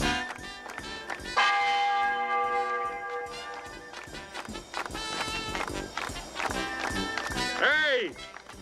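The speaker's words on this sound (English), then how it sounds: "Ring out the church bells!" Church bells ring out amid a busy comic scene of shouting voices, hoofbeats and running feet, with a band-like swell and a sliding whistle near the end.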